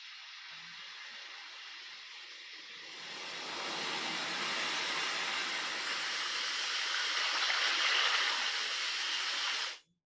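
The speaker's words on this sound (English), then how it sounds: "That's like rain, like a thunderstorm rain." A recorded thunderstorm rain track used for tinnitus relief: a steady broadband hiss of rainfall that swells after a few seconds, stays constant, then cuts off abruptly, with no distinct thunder claps.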